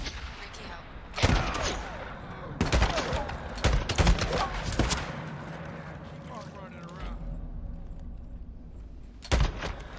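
Gunfire in the video game Days Gone, several loud sharp bursts and single shots scattered across the span amid game effects, with someone talking over parts of it.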